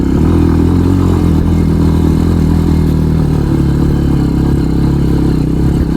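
A motorcycle climbs a steep rocky, gravel-strewn mountain track in Crimea, its engine loud and constant with clattering stones beneath.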